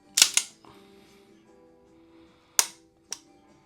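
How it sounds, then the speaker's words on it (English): Trigger of a Springfield Armory Emissary 1911 pistol dry-fired during unboxing, sharp metallic snaps at the start, then two more isolated clicks over a faint background. "let's look at the trigger, how it fires"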